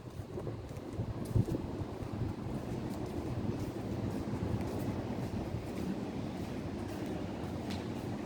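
Continuous low rumbling roar, like strong wind buffeting the microphone, steady throughout with no speech.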